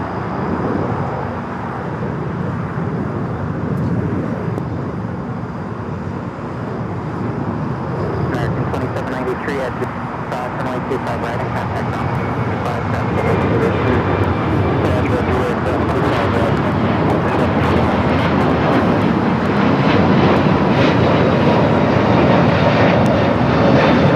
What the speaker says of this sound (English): This is United Airlines 311 taking off to Denver on the A321neo